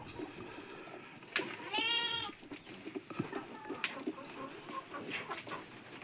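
Young goat kids kept for sale, one clear drawn-out bleat near the start followed by scattered softer calls and shuffling, close and fairly quiet, with no talk.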